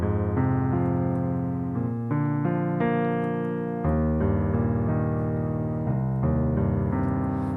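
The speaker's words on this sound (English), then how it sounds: "if you want to practice adding this arpeggio thing in, that sounds like this" Piano arpeggio accompaniment for a pop ballad, broken chords rolling steadily through shifting harmonies, sustained and even, played alone and close.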